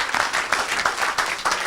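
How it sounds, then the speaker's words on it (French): A church congregation cheers and applauds during a live service, a dense, continuous wash of clapping and voices with rhythmic surges, close and fairly loud. "Oh, je crois que tu allais acclamer mieux que ça."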